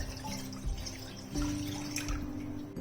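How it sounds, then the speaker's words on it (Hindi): Water from a glass pours into a kadhai fitted with a mesh stand to serve as a steamer, giving a short, close trickle and splash with a few drips over a steady low hum. "उसमें 1 गिलास के जितना मैं डाल दूंगी पानी का"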